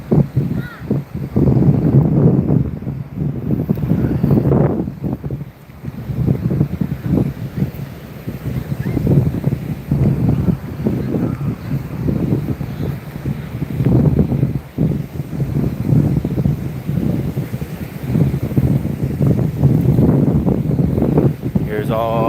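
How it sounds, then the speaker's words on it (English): Strong outdoor wind at a campsite buffets the microphone in steady, loud gusts, roaring and rumbling throughout with a voice speaking now and then. "It's gonna be more windy."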